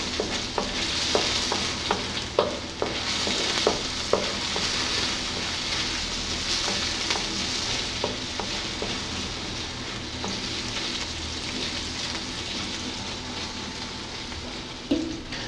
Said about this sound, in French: On va faire revenir les oignons jusqu'à ce qu'ils deviennent translucides.